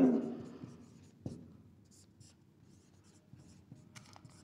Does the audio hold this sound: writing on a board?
yes